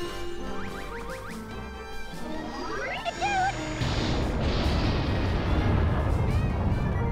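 Prin Explosion attack in the video game Disgaea 3: chirpy rising synth tones build up, then a loud, sustained explosive roar with crashing noise fills the rest, heard alone without talk.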